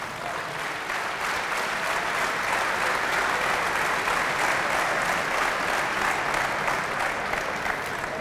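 An audience applauds an opening speech, a steady, dense wash of clapping lasting several seconds with no break.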